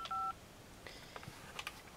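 Telephone keypad DTMF tones on a Centrex line with call waiting deluxe: a brief two-tone beep as a button is pressed, followed by faint clicks and a short pair of softer tones later, with no talking.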